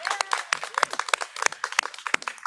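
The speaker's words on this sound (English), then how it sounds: "let's just give a big round of applause to our candidates" Applause for election candidates at a Green Party press event in Toronto, heard as a short burst of scattered, uneven hand claps from a small group, fairly close, with murmured voices underneath.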